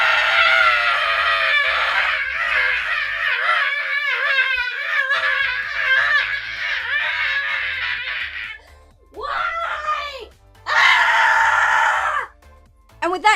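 A voice screams and shrieks in long, wavering bursts, loud and close. Some of the cries sound like crowing or shrill laughter, and they break off into a few short gaps before a final outburst.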